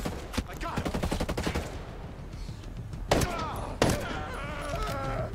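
Rapid bursts of gunfire in the video game Ghost Recon Breakpoint, including Desert Eagle pistol shots, crackle loudly and densely for about two seconds, then give way to two sharp, heavy reports over ongoing game noise.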